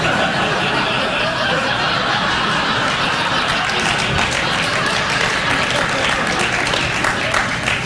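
A late-night talk show studio audience laughing and applauding, a dense continuous roar of clapping mixed with chuckles and laughter, loud and sustained throughout.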